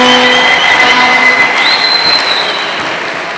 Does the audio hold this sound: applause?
yes